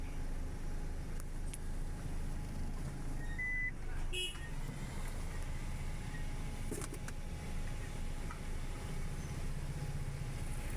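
Slow-moving traffic on a Chennai road, a constant low engine rumble from cars and two-wheelers with a couple of brief horn toots, and people talk faintly underneath.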